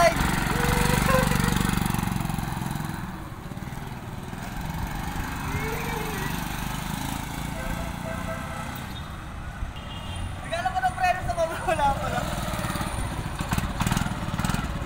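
A TVS XL100 moped buzzes as it is ridden, its small engine droning steadily close by with rising and falling revs while people talk over it.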